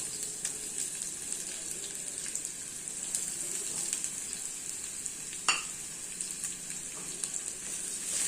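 Chopped onions going into hot oil with mustard seeds, chilies and curry leaves, a soft, steady sizzle with faint stirring clinks and one brief sharp scrape midway.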